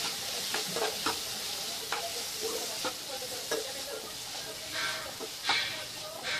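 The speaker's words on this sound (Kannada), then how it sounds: "ಈಗ ಇದಕ್ಕೆ ಟೊಮೆಟೊ ಸೇರಿಸ್ತಾ ಇದ್ದೀನಿ." Tomato is added to sizzling vegetables in a pan for upma, with a constant bright hissing fry and occasional scraping stirs, near and moderately loud, no speech over it.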